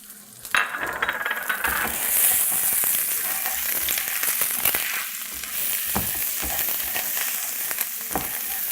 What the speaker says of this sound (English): we're going to add 2 cloves of garlic. And cook that and scrape it down a little bit more.